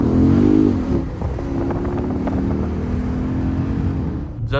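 A Chrysler 300 392 with stock Scat Pack exhaust roars under hard acceleration, the exhaust revving loud and near, then settling into a steady deep drone before cutting off.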